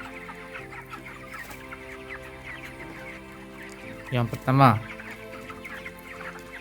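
Broiler chickens in a coop keep up a low clucking background, and one bird lets out a louder burst of squawking clucks partway through while someone speaks.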